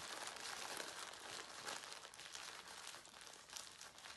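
Two sheets of newspaper crumpled and rolled into a ball for a kids' snowman craft, giving steady close crinkling and rustling throughout with no talking.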